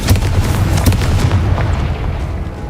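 A Confringo spell from Hogwarts Legacy explodes with a loud, close boom that rolls into a dense, rumbling blast lasting several seconds and slowly fading.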